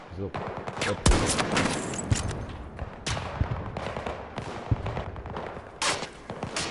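Video game gunfire crackles in repeated bursts of sharp shots and rapid volleys, loud and uneven, with talk mixed in between.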